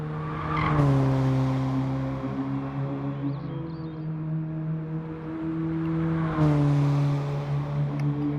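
An Alfa Romeo race car engine drones at a steady pitch on track at Bathurst, dropping briefly twice as it shifts, with tyre noise and a loud, continuous roar throughout.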